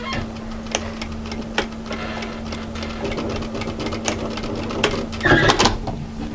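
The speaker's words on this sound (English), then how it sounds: "Edge stitch that into place." A sewing machine edge stitching a layer of fabric into place on a kimono kaftan, a steady fast needle hum with a constant motor whine, running continuously and growing slightly busier near the end.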